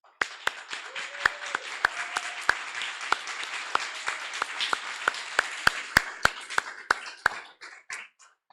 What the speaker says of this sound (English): At this time, a small round of applause for all of our award recipients.